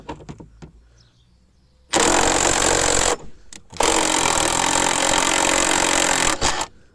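A power tool whirs loudly in two long bursts, unscrewing 13 mm nuts on the exhaust mount of a BMW E36 320i, with a brief pause and a few light clicks of handling before and between the runs.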